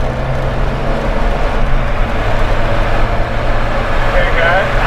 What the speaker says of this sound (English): the road noise, the wind noise, the engine noise, it makes for a very loud car inside the cabin